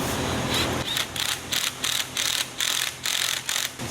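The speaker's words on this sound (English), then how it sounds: "We are going to use the impact." An impact tool drives a bolt tight with a half-inch socket while a commercial walk-in Christmas ornament display is being assembled, giving a loud, steady mechanical rattle that pulses in quick, regular bursts throughout.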